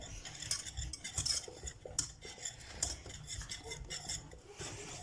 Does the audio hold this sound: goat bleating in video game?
no